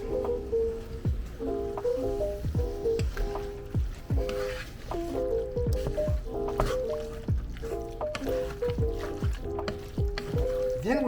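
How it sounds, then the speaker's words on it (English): Chili ingredients are stirred in a pot, giving repeated wet squelching and scraping strokes in a steady, close rhythm with no talking. "Now we stir."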